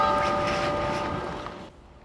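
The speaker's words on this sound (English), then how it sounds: "Five bells tolled just after three" A single church bell tolls once at a memorial for a university shooting, its ringing tone hanging in the air and slowly fading before cutting off.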